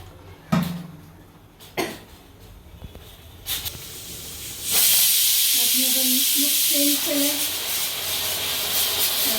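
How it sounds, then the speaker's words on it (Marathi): A few sharp knocks and scrapes, then a pressure cooker's steady loud hiss of escaping steam takes over, with brief muffled talk in the background. "तिकडे कुकर होतच आहे"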